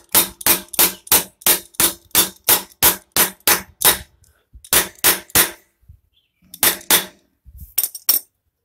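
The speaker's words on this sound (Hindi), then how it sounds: "थोड़ा ठोक लेता हूँ" Sharp metallic hammer blows on the gear lever bolt of a Bajaj Boxer motorcycle, a quick regular run of about a dozen close strikes, then a pause and two shorter bursts of taps.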